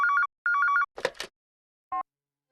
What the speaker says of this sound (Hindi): लगता है भारती का फोन होगा, मैं देखती हूँ।